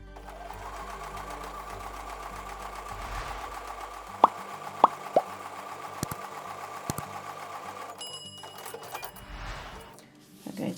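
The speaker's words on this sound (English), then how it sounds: "So I'm going to take those over to the sewing machine now." A sewing machine stitches a quarter-inch seam along a drawn line on a quilt block, running in a steady continuous whir for about eight seconds, with a few sharp clicks partway through, before it stops and quiet handling noises follow.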